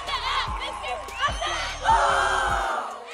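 A crowd roars and yells wildly in a loud continuous burst of mixed voices, with a few heavy low thumps underneath and a swell of cheering toward the end.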